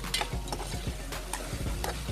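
Sautéed mung beans with pepper, onion and garlic stirred in a pan, a soft sizzle under repeated scraping and tapping strokes of a utensil at an irregular pace, close and moderately quiet, no voices.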